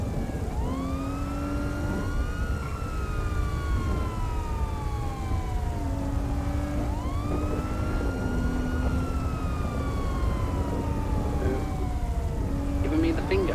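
An emergency vehicle siren in a Grand Theft Auto roleplay game wails in long rising and falling sweeps, steady and fairly loud over road noise as the vehicle travels a freeway.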